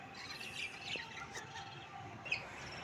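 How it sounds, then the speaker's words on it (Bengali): Baby budgerigars kept in a clay pot nest give faint, scattered chirps and tweets, a few brief high calls heard from a distance over a quiet background. "সারা দিন রাত এরা কিচিরমিচির করে"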